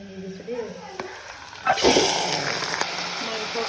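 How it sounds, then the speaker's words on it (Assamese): Meat browns in oil in a pressure cooker, a sizzle that swells loudly partway through as it hits the hot pan and then holds as a steady hiss, with someone speaking beforehand. "মাংসখিনি ৰঙচুৱাকৈ অলপ ভাজি ল'লোঁ।"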